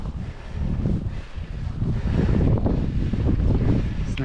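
Moderate wind blows outdoors in cold weather near freezing with light snow, buffeting the microphone as a steady, loud low roar with gusty swells throughout. No one speaks.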